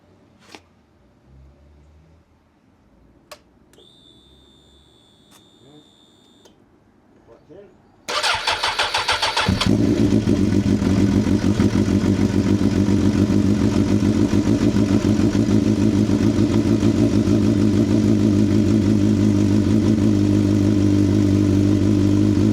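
A cold-started Suzuki GSX-R 750 K4 motorcycle engine fires up after some quiet clicks and light handling sounds, then settles into a loud, steady, close idle that runs on without a break.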